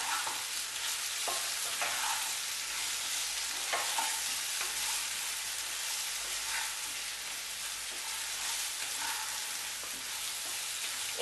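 Fried pumpkin tossed with turmeric and chili powder crackles in a pan while a spatula stirs it in slow, evenly spaced strokes, a fairly quiet and continuous frying hiss throughout.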